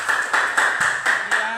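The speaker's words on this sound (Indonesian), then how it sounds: "Tepuk tangan untuk temannya." Classroom applause from a group of students, a steady patter of many hands clapping in fairly close range, continuing evenly throughout with no break.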